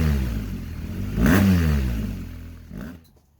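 A BMW R1250R motorcycle fitted with an SP Engineering Diabolus Oval X exhaust is revved up sharply from idle, then falls away, followed by a second short blip before the engine cuts off, loud and close.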